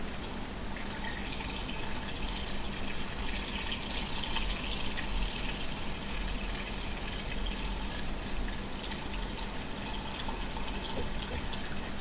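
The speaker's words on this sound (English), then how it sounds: "So now I got some filtered water that I like using, and I'm just going to fill this bad boy up." Filtered water pours steadily into a tea infusion pitcher, a continuous close rushing and splashing that holds at an even level from start to finish.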